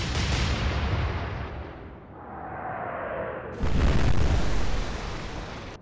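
An opening main-gun salvo from a battleship in Atlantic Fleet, the naval warfare game, rolls out as a deep rumbling boom, then a falling shell whistle leads into a sharp, loud impact crash that sustains to the end.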